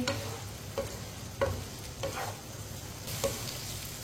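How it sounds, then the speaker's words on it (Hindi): Chopped okra frying in a pan while a spoon stirs it, giving a steady sizzle under several sharp scraping clinks spaced about every second, close and moderately loud with no talking. "भिंडी को 5-6 मिनट के लिए फ्राई कर लेंगे। इसे चम्मच चलाते हुए फ्राई करना है।"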